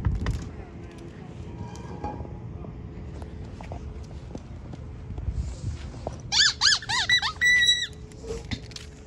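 A dog bites down on a squeaky alligator toy, producing a quick run of four or five sharp, rhythmic squeaks up close, preceded by indoor shuffling and low room noise.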